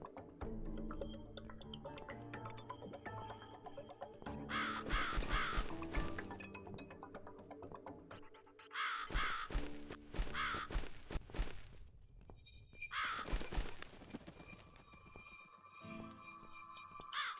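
A crow in a dark video game lets out several harsh caws in short bursts. They sit over ticking, shuffling ambient game sounds and rise above them a few times at moderate loudness.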